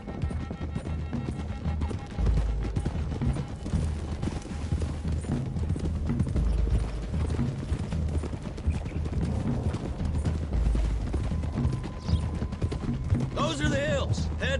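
Galloping horses' hooves in Red Dead Redemption 2, a dense rapid clip-clop running continuously under a busy mix of ambient game sound, with voices talking over it.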